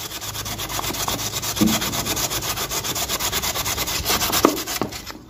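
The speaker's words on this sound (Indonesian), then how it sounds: "ini juga saya amplas nah seperti ini" Steady rhythmic scratching of sandpaper rubbed back and forth over a cracked bucket, close and continuous, with no voices.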